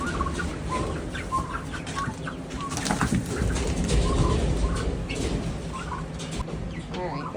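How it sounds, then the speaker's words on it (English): Farm turkeys and guinea fowl calling inside a shed, a busy overlapping mix of clucks, gobbles and sharp chattering cries at close range, with faint human voice now and then. "here is everyone, well, not everyone, but my turkeys and my guineas."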